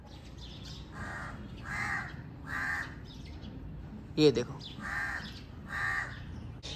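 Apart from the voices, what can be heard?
crow cawing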